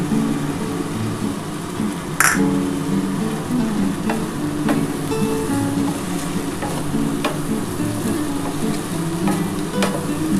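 Eggs sizzle and fry in a pan for a dhaba-style chicken egg tadka, a steady close crackle with occasional stirring scrapes and a sharp clatter early on, no talking.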